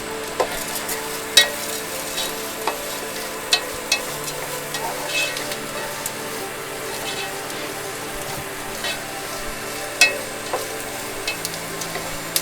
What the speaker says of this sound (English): Has to saute for another 5 minutes, I think.